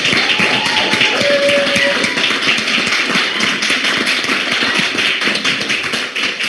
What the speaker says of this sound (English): So give an applause for Sarah